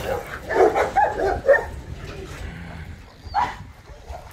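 A large male dog gives several close, loud barks and yips in a burst, then falls quiet before one more short bark, with someone talking in between.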